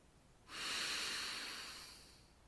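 One long, breathy exhale from a person during breathing meditation, a soft hiss that starts abruptly and fades slowly over about two seconds in a quiet room.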